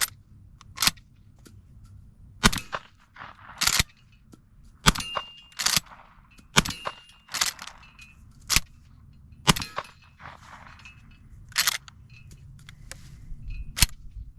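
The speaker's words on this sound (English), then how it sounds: "Hitting the plate is just about as loud as the gunshot." Sharp, fairly loud reports from a silenced Remington 11-87 shotgun firing subsonic shells outdoors, each followed by a metallic clang of shot striking a steel plate, repeated about a dozen times at irregular intervals with no talking.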